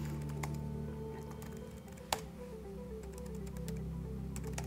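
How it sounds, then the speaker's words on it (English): Close, fairly quiet keystrokes typing a command on a computer keyboard over a steady electronic hum and fan drone, with one louder key tap near the middle. "So if I type ifconfig,"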